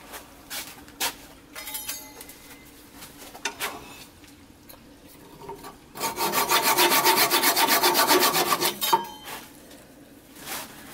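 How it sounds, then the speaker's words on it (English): Sanding a turned charred oak whiskey cup on the lathe, with light scraping and rubbing at first, then a sustained loud rasping stretch that stops abruptly, close by and with no speech. "So we'll part it off, we'll sand it"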